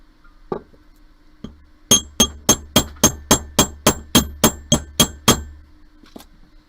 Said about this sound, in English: I'm going to take my chasing hammer. I'm just going to hammer that flat.